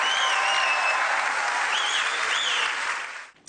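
A political meeting hall full of people applauding steadily and loudly, the clapping holding for about three seconds before quickly dying away.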